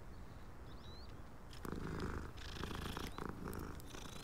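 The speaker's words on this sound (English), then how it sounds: "he or she's purring." A cat purrs in the video game Hogwarts Legacy, a soft, low, continuous rumble set against quiet in-game ambience, faint overall with a few brighter game sounds partway through.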